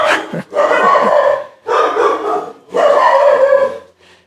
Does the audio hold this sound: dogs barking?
yes